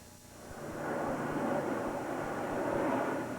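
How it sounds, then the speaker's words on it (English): Military jet aircraft roaring overhead near a Royal Air Force base in the Cotswolds, a steady, loud broadband rumble that swells after the first second and holds without pause. "over the noise of their jets"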